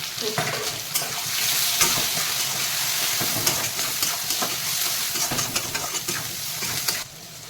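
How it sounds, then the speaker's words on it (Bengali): Onions, potatoes, green chilies and taro fry in a pan for a hilsa-head and Malabar spinach dish, giving a steady close sizzle with stirring scrapes and no talk. "একটু ভাজা হয়ে গেলে তাহলে কষে দেবো"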